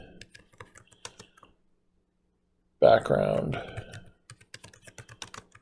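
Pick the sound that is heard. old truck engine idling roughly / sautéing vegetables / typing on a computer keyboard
typing on a computer keyboard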